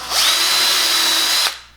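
A power drill whirs at high speed, pre-drilling wood for a screw in a flat-pack mortiser, one loud continuous burst lasting over a second before spinning down.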